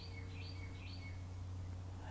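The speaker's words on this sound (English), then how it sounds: "You can hear some birds in the background chirping." Birds chirp outdoors in Jacksonville, Florida: thin, high tweets repeating over a steady low background hum, faint and distant, with no talking.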